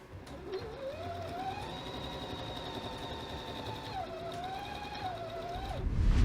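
Sewing machine stitching through fabric for a craft pencil case, a steady close whirring hum with a rising, wavering motor tone that runs continuously before a brief louder bump at the end.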